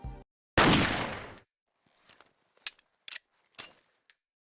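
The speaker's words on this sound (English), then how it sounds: "the rifle sound effects from Resident Evil 4, the OG one" A single loud, close rifle gunshot from the original Resident Evil 4 booms and decays over about a second, followed by a series of short mechanical clicks and clacks from the rifle action.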